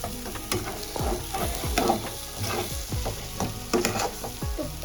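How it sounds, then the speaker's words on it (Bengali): Eggs stir-fried with spices in a pan for egg tadka, a steady close sizzle broken by repeated scraping strokes of a spatula in an uneven rhythm, with no talking. "ডিমটাকে ভালোভাবে মানে কষিয়ে নিচ্ছি মশলার সাথে"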